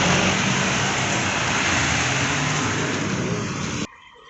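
Heavy rain roars in a dense, steady hiss close by, with a faint vehicle rumble underneath, cutting off abruptly near the end.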